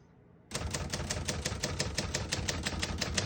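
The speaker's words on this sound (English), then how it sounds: "As you can see, all the keys type nice and none of them skip or stick." Keys of a 1971 Hermes 3000 third-generation portable typewriter strike in a steady, brisk run of sharp clacks, loud and close after a short quiet start, with no talk.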